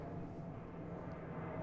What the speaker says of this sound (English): Can you hear the airplane?